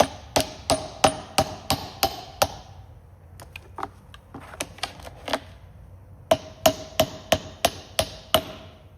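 Sharp metallic hammer blows tap upper control arm bushings into new arms on a Toyota Tundra, struck in quick rhythmic bursts of about six to eight hits, then a pause with lighter scattered taps before another steady run of strikes.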